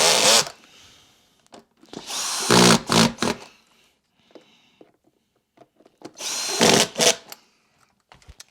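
A power tool drives and torques screws on a Vacmaster 3 gallon VZA306P canister dry vacuum cleaner under repair, loud whirring bursts in several separate runs with quiet gaps and small clicks between.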